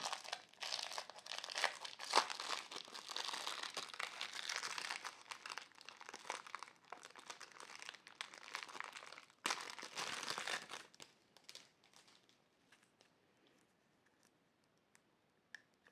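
Packaging around a 75 mm by 1 m loop crinkles, tears and crunches as it is unwrapped by hand, busy and close for about ten seconds before thinning out to a few faint rustles.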